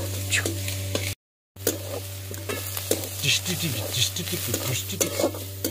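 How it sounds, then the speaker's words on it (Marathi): Chopped onions sizzle and fry in a hot pan on a village kitchen stove while a spoon stirs and scrapes them repeatedly, with a steady low hum running underneath and a brief cut to silence. "कांदा परतायचं काम चालू आहे."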